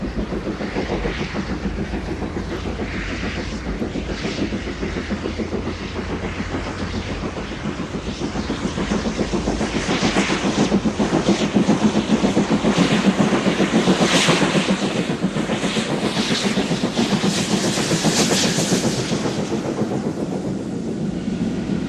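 A GWR express steam locomotive hauls a British Rail intercity special from Didcot to Stratford-upon-Avon, a continuous loud rumble with rhythmic rail clatter and rushing exhaust, swelling as it passes and fading slightly toward the end.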